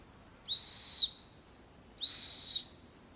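A piercing high Bear Grylls survival whistle blown twice in short blasts of about half a second, clear and loud against a quiet background.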